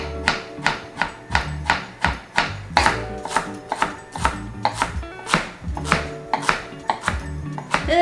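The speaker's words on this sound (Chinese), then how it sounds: "然后香菜呢切小段" A knife chopping coriander into short pieces on a board, a quick steady series of about two crisp close thuds per second, alone without talk.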